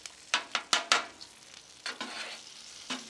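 Gravy being stirred on a Blackstone flat-top griddle, a run of sharp scraping strokes of a spatula over a soft sizzle, quick bursts at first, then a few slower scrapes, close and fairly loud, no talk.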